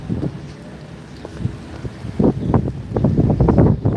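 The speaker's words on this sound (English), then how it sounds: "Howdy, wind." Gusty wind buffeting a microphone, low rumbling bursts that grow stronger and more frequent toward the end.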